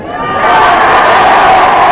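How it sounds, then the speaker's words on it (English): A large cricket crowd at a Test match in England cheers and roars as the players come out onto the balcony, a loud, continuous swell of voices building and holding, heard from a distance. "And the applause you hear are for the players coming out onto the balcony"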